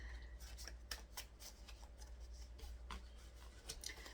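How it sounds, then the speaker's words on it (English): Quiet, rapid riffling and soft slapping of cards being shuffled, in repeated bursts against a low steady hum, with no voices. "We'll get a few more shuffles here."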